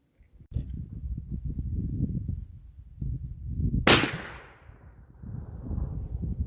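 A .375 Ruger rifle shot firing brass solids at a level 4 armor plate: one sharp, loud crack with a ringing decay, surrounded by rumbling wind and handling noise outdoors.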